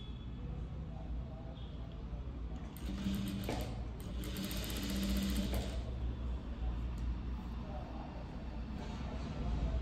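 Sewing machine stitching a princess-cut blouse with a boat neck front and deep back neck, a steady mechanical whirr running throughout with a louder burst in the middle, close by.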